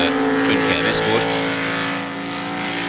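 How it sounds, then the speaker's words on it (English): Twin cam Ford Escort improved production touring cars sweep past on the Warwick Farm circuit at a 1971 race, loud engine drone with a passing pitch shift, under a commentator's talk. "Now here's the next car coming through, the next group of cars"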